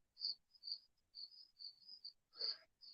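Insects chirp in short, high, buzzing bursts in an irregular rhythm, faint and a little distant against an otherwise quiet background.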